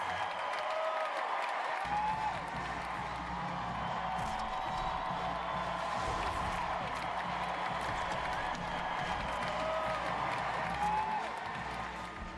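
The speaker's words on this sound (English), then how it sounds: "Everybody, warm round of applause for him." Crowd applause and cheering fill a college basketball arena in College Hoops 2K8, a steady wall of clapping and crowd noise that holds loud throughout, with faint voices mixed underneath.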